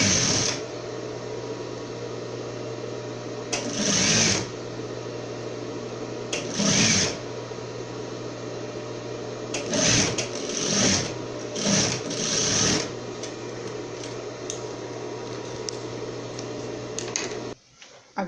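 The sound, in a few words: overlock sewing machine sewing elastic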